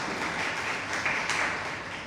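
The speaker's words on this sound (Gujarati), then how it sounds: "આપણે એમને તાળીઓથી વધાવીને એમનું સ્વાગત કરીએ" An audience at a Gujarati book-discussion talk applauds to welcome the speaker, giving a soft, steady patter of many hands clapping at a distance for about two seconds.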